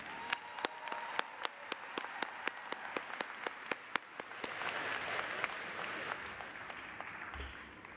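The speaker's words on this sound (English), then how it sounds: "give another big round of applause for today's musicians" An audience at a graduation ceremony applauds the musicians: at first sharp, separate claps from near hands, then merging into a broad wash of clapping from the crowd that fades gradually.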